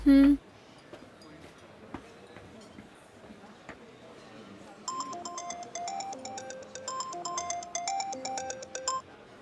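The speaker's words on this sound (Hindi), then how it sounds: "मैंने माहिन साहिबा को फोन मिलाया था।" A melodic phone ringtone chimes in a repeating electronic tune, starting after a short beep and quiet background murmur.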